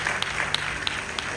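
Applause at a gospel concert: a short burst of scattered clapping at moderate volume, with a few sharper claps standing out at a regular beat over a steady room murmur.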